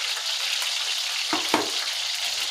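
Whole spices including cinnamon sizzle in hot oil for a keema curry: a steady, close frying hiss with a couple of brief stirring clanks midway.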